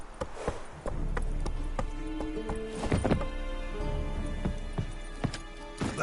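Roach the horse gallops in The Witcher 3, hooves striking in quick, loud, rhythmic clip-clops close by, with a brief snort or whinny among them and no voices.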